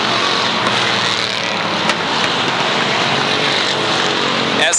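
Limited Sportsman race cars roar around the Waterford Speedbowl oval in a loud, sustained engine drone, with a few sharper surges as cars pass close.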